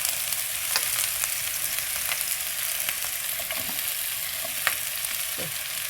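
Onion and green chilli fry hard in hot oil for chicken manchurian, a loud, dense, continuous sizzle with scattered pops and crackles throughout and no voices.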